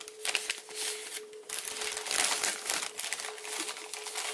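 Origami paper crinkles and rustles close up as a sheet is folded over by hand, a series of crisp crackling bursts and sliding scrapes with brief pauses between folds.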